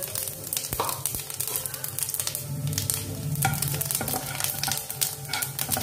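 Whole cardamom, half an inch of cinnamon and cumin seeds frying in hot oil, a dense continuous sizzle with crackles and pops, broken by stirring scrapes and a couple of sharp utensil knocks.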